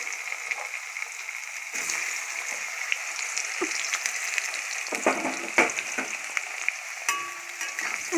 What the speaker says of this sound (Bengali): যে আলু দিয়ে নাড়িয়ে নিচ্ছে। আলুটাকে লাল লাল করে ভেজে নেবে।